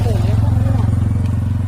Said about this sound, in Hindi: बाइक थी